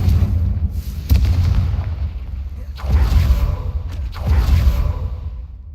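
Booming Confringo fire-blast spells in the Hogwarts Legacy video game, a loud explosive burst near 1 s and two rolling blasts around 3 s and 4.5 s over a constant dense low rumble.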